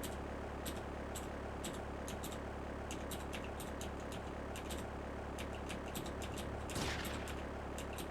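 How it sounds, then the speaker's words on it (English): Bursts of shotgun fire from GTA, a rapid irregular volley of sharp cracks spread across the stretch, fairly faint and distant-sounding with a steady background hum. "Nice random shotgun blow."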